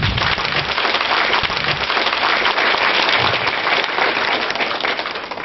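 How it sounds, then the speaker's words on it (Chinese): A crowd in a university lecture hall gives warm applause to welcome a Tibetan Buddhist khenpo, a thick, continuous wash of clapping that holds steady and fairly loud throughout, with no talking over it. "下面我们以热烈的掌声欢迎索达吉堪布"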